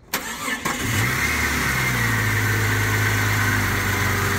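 A Jeep XJ engine starting after an oil pan, rear main seal, connecting rod bearing and oil pump rebuild: a short cranking whir catches and settles into a steady, close mid-pitched idle.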